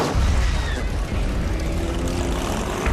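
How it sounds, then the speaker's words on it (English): An airboat's airplane engine and giant fan roar continuously, a loud, droning buzz that stays close and constant for a few seconds. "Two pilots racing boats powered by airplane engines turning giant fans."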